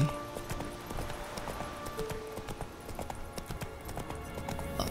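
In The Witcher 3, a horse gallops along with rapid, rhythmic clip-clopping hoofbeats that stay steady and fairly close, over quiet game ambience.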